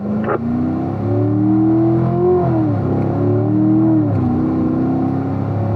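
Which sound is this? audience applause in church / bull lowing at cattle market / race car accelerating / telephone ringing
race car accelerating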